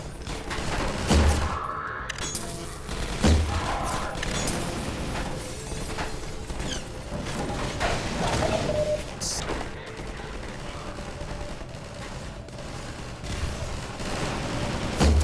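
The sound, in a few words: gunfire at ski lodge windows in Half-Life 2 video game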